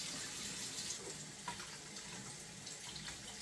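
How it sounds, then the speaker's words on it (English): Tap water runs steadily from a sink faucet over beans being rinsed for a crockpot meal, a continuous close rushing hiss with no voices. "I like to rinse the beans in water"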